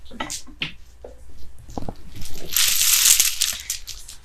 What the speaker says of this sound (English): As you guys hear the shaking, that's because I got beads in my hair again.